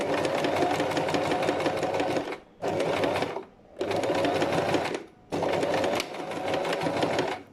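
A sewing machine stitching batik binding runs in loud, rapid bursts, with three short pauses between the stretches of steady mechanical whirring and no voices.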